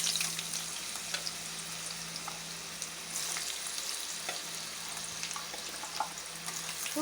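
Mango pieces for a homemade pickle sizzle steadily in hot oil with cinnamon sticks, a continuous loud crackling fry with occasional sharper pops and stirring, no talking.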